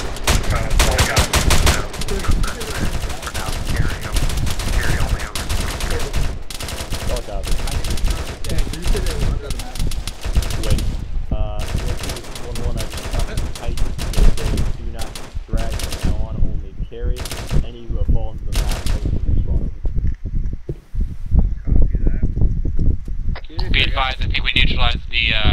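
Rapid automatic gunfire and scattered shots from an Arma 3 town assault, loud and near in dense bursts with brief gaps, with wind noise, and voices talking over the firing.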